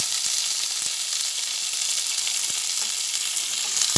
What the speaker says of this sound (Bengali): আবার ভালোভাবে নাড়াচাড়া করে নিচ্ছি এটা ভাজা হচ্ছে